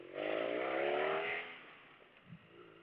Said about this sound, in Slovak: Boxer naozaj s týmto výfukom, s tou dvojitou koncovkou má perfektný zvuk